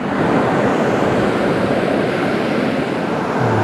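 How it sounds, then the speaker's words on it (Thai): Sea waves washing onto the shore on the Nakhon Si Thammarat coast, a dense, steady broadband rush of surf and wind that stays loud and unbroken throughout. "อันนี้อยู่ที่ริมทะเล"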